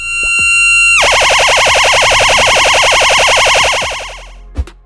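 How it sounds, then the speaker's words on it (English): A 230 volt AC alarm buzzer with its pitch knob turned to maximum screams steadily and very loudly, a harsh warbling tone that holds for several seconds before cutting off, followed by a brief click. "It works on 230 volt AC and has a knob to adjust the pitch. We will set the pitch to maximum irritation level for maximum efficiency."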